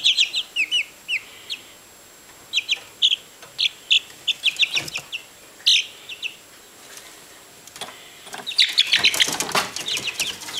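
Inside a chicken coop, a chick peeps shrilly and constantly in rapid repeated bursts, close to the microphone. Toward the end, wings flap and the birds rustle about.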